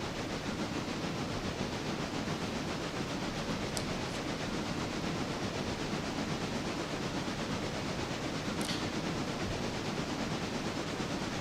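A two-car freight train in the video game Railroader rumbles along steadily with a continuous broadband roar and hiss that stays level from start to finish, with no voices.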